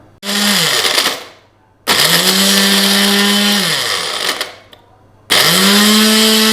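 A mixer grinder crushes a packet of Marie biscuits in three loud bursts, each motor whir spinning up and winding down between short pauses, with no talking.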